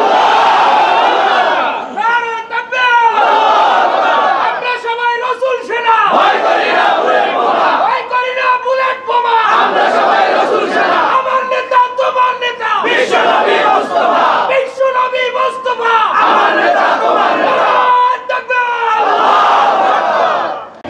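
Large crowd at an Islamic religious gathering shouting Allahu Akbar in loud, rhythmic unison bursts, answering a repeated takbir call roughly every two seconds, with the leader's voice between responses.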